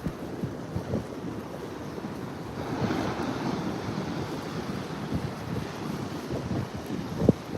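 Ocean surf on Manhattan Beach rolls in steadily while wind buffets the microphone, with soft wave swells and occasional gusty thumps close by.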